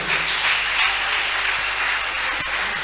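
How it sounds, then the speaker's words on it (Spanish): A church congregation claps in dense, steady applause that fills the room for a few seconds, loud and continuous without any speech. "¿Cuántos le dan un fuerte aplauso a Jesucristo?"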